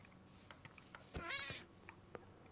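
Cats meow in the video game Minecraft, several short, faint calls scattered through the moment with one longer, louder meow in the middle.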